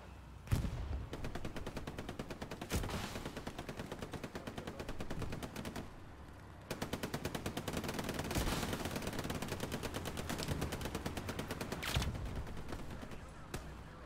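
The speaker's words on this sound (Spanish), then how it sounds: "¿Desde dónde dispara la puta MG?" A machine gun in the World War II shooter Hell Let Loose fires long, rapid bursts in a steady rattling rhythm, broken by a few short pauses and some isolated louder bangs.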